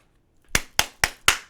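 Four sharp, evenly spaced hand claps ring out close and loud after a short silence, applause for a rapper.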